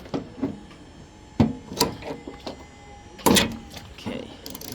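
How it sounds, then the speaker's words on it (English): A ratchet spins a bolt off the hood hinge of an Infiniti G35, G37, Q40 or G25, heard as scattered short clicking and scraping bursts with louder clatters near the start and end, close and fairly loud, with no voices. "Okay, now I'm using a ratchet. Spin it off."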